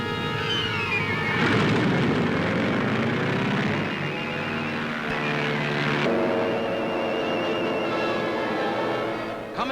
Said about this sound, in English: Closing in now for heavy air blows, carrier planes make ready and take off.